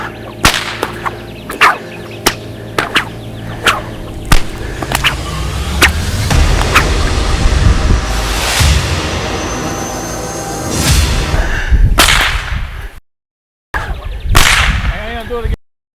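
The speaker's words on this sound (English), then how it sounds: "Is it safe if I stand here so I can hear the crack, the whip?" Loud, sharp cracks of a whip outdoors, a dozen or so separate snaps spaced irregularly over steady background noise, with a brief dropout near the end.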